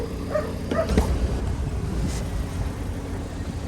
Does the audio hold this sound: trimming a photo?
no